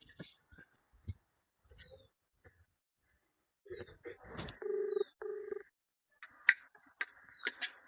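A phone is dialed, giving two short electronic tone bursts among faint clicks and handling noises in a quiet room, with brief voice-like sounds.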